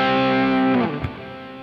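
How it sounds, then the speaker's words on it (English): Electric guitar played through a delay effect, a sustained distorted note that fades into trailing repeats, widening the sound; alone with no talking. "If you add a delay, it widens up your sound like this"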